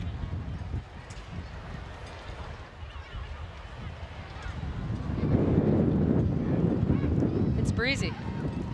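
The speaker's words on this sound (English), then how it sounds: "Gusty in Seattle, a wind coming off Puget Sound, which is about a mile and a half to our west." Gusty wind off Puget Sound buffets the microphone at an outdoor women's soccer match in Seattle, a low rumbling roar that swells midway under crowd noise, with a commentator talking.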